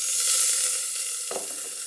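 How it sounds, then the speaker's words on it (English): Vegetables sauté in vegan margarine and olive oil in a warm pot, giving a steady close hiss of sizzling with a brief stir near the end, no talking. "I'm going to saute my vegetables. So I'm using vegan margarine and olive oil together."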